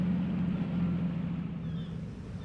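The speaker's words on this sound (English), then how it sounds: "off he went, rumbling his engine grumpily." A low, steady engine rumble with a constant hum, gradually easing slightly in loudness, like a boat motor idling nearby.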